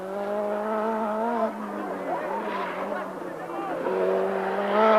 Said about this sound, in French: la vaillante petite Renault 5 Turbo de Ragnotti prend la tête du plus grand rallye du monde